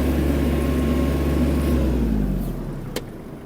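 Kubota KL-250 Japanese mini tractor engine running steadily while driving, a loud continuous low hum that eases off slightly toward the end, with a brief click near the close.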